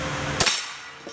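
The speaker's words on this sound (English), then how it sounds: "Winchester Wildcat. Fire in the hole." A single sharp gunshot from firing Winchester Wildcat ammunition, loud and close, with a brief decay after the crack and a faint second click just after.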